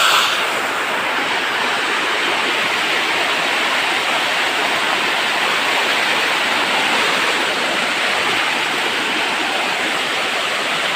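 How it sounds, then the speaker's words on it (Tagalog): Loud, constant rushing floodwater roars through a creek without pause, a dense and even torrent close by. "Papakita ko sa inyo yung malakas na baha."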